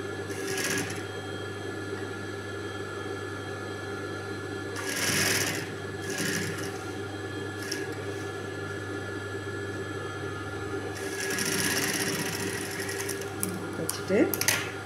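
A sewing machine stitches a V patti for a blouse of more than 36 inches in steady whirring bursts, a short one, a longer one, then another long run, with a low hum and someone talking between them.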